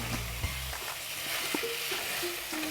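Ginger garlic paste frying and being stirred in a pan over medium-low heat, a steady low sizzle with faint scraping of a spoon, no voices.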